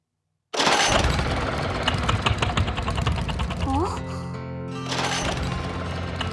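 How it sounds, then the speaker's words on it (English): A small outrigger boat engine cranks and sputters after a sudden start, running roughly with rattling mechanical noise, then briefly faltering before catching again, close and loud. "Ignoring me, she climbed into the outrigger and started up the engine."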